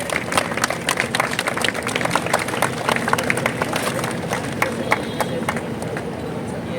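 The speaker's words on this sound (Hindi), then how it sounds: "जोरदार तालियां हो जाए।" Crowd applause at the opening of a new super-specialty hospital in Faridabad, a dense, steady wash of many hands clapping close by, sustained at even loudness throughout with a faint murmur of voices underneath.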